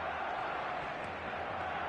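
Steady stadium crowd noise in an eFootball match, a continuous even wash of applause and murmur with no distinct peaks, heard alone at moderate level.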